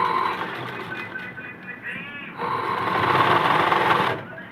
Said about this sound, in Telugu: దీన్ని కూడా సూది దింపేసుకొని చుట్టూ 4 మూలలు ఇట్లా కుట్టుకోవాలి